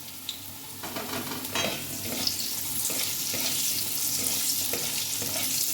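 Potatoes fry in a pan, a steady sizzle that builds slightly, punctuated by scraping stir strokes and small clinks; no one speaks.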